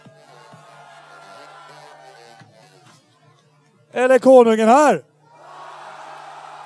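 A live audience at a stage contest roars out a short, loud collective shout to vote for a contestant, lasting about a second after a host speaks quietly, followed by murmuring.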